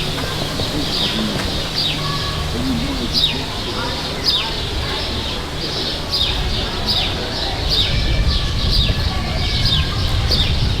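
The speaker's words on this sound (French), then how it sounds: "il doit y avoir des centaines d'oiseaux" Many birds call and chirp in a crowd beside a small fountain in Old Montreal on a hot, humid day, with bright repeated chirps over steady splashing water and background noise.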